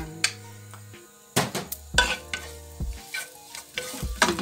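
Garlic frying in hot oil in a pan, with a spoon clattering and stirring against the metal in quick knocks and scrapes over a light sizzle, close and busy, with no voices.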